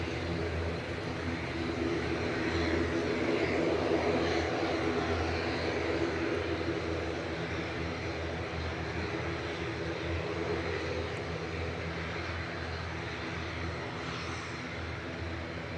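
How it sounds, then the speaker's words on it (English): A Loganair ATR 42-500 turboprop airliner departing an airport for Inverness, a loud, steady propeller and engine roar that stays constant and close throughout, with no speech over it. "This is an ATR 42500 with flight 598."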